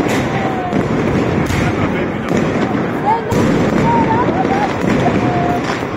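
Continuous crackling and booming New Year fireworks, bursting in rapid succession, with people talking and calling out over the noise.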